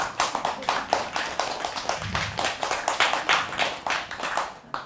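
A small audience at a Buddhist dharma lecture claps in steady rhythmic unison, a continuous run of close, fairly loud claps lasting several seconds.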